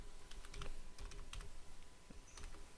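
Fingers typing on a computer keyboard, quiet close clusters of light key clicks in short irregular bursts with small gaps, over faint background hum and no talking.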